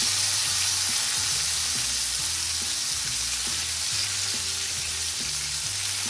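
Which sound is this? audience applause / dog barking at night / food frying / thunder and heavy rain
food frying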